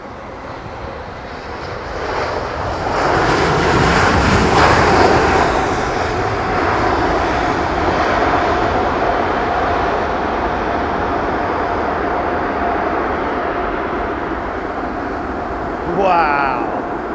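An airliner landing at London Heathrow Airport, its engines roaring loud and sustained in a broad rumble that swells and holds, then eases slightly, with a brief rising whine near the end.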